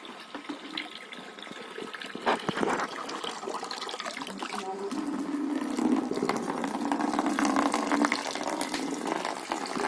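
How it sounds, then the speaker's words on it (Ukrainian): Water trickles slowly and splashes steadily for goats back from pasture, with faint clatter and movement nearby; the flow grows a little fuller toward the end. "Водичка тече помаленьку"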